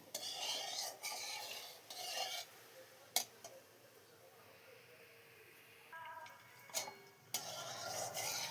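Sugar stirred into hot oil in a kadai for chicken kosha, with repeated bursts of metal spoon scraping and clinking against the pan between quieter gaps, close by.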